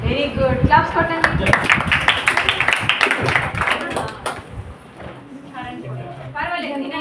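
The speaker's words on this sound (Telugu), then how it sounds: "క్లాప్స్ కొట్టండి." Children clapping together in a classroom, a burst of quick, uneven claps in the middle with a teacher talking before and after.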